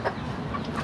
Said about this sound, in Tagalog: Mga palahiing manok guys.